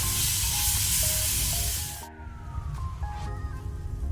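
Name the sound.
ginger garlic paste frying in a pan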